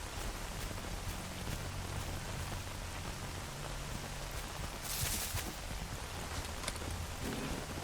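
Steady rain in the S.T.A.L.K.E.R. Anomaly game world, a dense even hiss of drops on surfaces with no break, plus one brief brighter splash midway.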